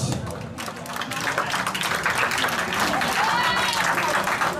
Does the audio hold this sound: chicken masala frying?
no